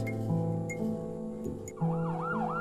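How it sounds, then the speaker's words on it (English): A police siren from a horror video game kicks in partway through, wailing up and down outside over a steady droning hum and scattered clicks. "Soon after, the sound of police sirens could be heard outside."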